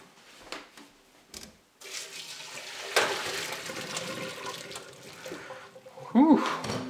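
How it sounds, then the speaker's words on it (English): Boiled potatoes drained in a strainer, water pouring and splashing into a sink, gushing in bursts with steam-like hiss, close and fairly quiet, with a brief voice near the end. "We're gonna strain these potatoes now that we're done cooking them."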